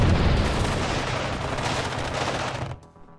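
Dense, continuous cannon and heavy gunfire from tanks in the wargame WARNO, loud and close, forming an unbroken barrage that cuts off abruptly near the end.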